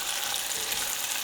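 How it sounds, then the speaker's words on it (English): Butter melts among onions in a hot pan, producing a steady, even crackling sizzle at moderate volume throughout, alone with no voices. "We're going to get some butter in with these onions. Let that melt"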